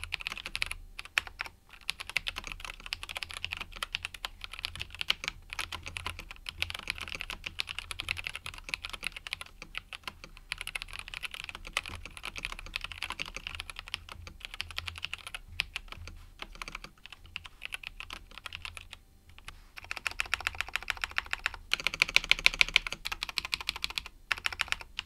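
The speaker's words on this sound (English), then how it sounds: "The switches sound really clean with no springy pings, and they make a low pitch sound" Continuous fast typing on a Kemove K98SE mechanical keyboard with double foam dampening, a dense stream of close, clean, low-pitched clacks with no spring ping, ending in a slightly louder burst of keystrokes.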